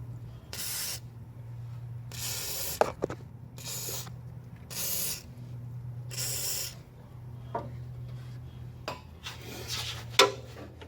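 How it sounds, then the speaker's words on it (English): Aerosol bursts of WD-40 sprayed into bolt holes while working toward a timing chain, five distinct hissing blasts of about a second each, close and fairly loud, separated by light metallic clinks of tools and parts. "Maybe I need a little bit of WD-40 and clean out those holes."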